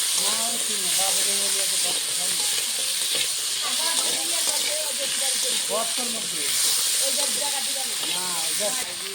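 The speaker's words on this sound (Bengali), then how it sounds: "আলুটা ভালো করে ভেজে নেবো।" Potato pieces fry in a hot pan with a continuous loud sizzle and hiss. Someone talks throughout over the frying.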